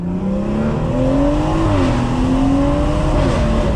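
A BMW engine roars loudly as it accelerates hard, pitch climbing through a gear change with a raspy, throaty aftermarket exhaust, close and continuous.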